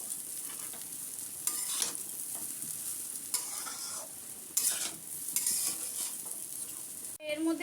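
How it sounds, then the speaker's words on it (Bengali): Chowmein noodles and vegetables sizzle in a hot wok, with a spatula scraping and tossing them in irregular strokes over steady frying crackle, close by. "এবারে এগুলোর সাথে ভালো করে মিক্স করে নেবো চাউমিনটা"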